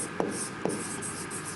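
Chalk scrapes on a classroom board, two short distinct strokes close by, followed by faint rubbing, with no talk.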